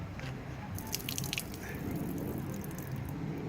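Water drips and splashes out of a flooded car engine's intake, faint scattered droplets and small trickles over a low background hum, fairly close but quiet.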